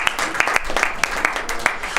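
A worship congregation claps in a steady rhythmic pattern, sharp repeated hand claps close and moderately loud, with voices faintly mixed in beneath.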